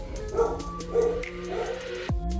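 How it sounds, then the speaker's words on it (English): A dog gives a few short barks and yips close by, with a whimpering tone and short gaps between them, followed by a sharp knock near the end. "that was the dog barking"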